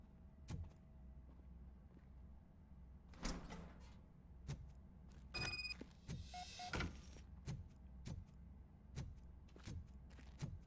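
A door in RoboCop: Rogue City creaks and clunks open over several seconds, with repeated thumping mechanical impacts at a regular pulse and a few sharp metallic clicks and squeaks midway, moderately close against a low hum.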